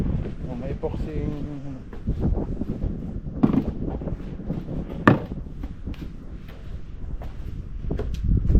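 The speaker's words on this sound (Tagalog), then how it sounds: "Malakas ang hangin." Strong gusts batter the microphone outdoors in a garden plot, producing heavy buffeting rumble throughout with sharper bursts, while people talk nearby underneath it.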